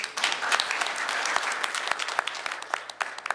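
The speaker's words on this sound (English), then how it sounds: "can we give Isaac a round of applause, please?" An audience gives a short burst of applause for a man at a community health talk, dense clapping with sharp individual claps standing out, steady for about three seconds.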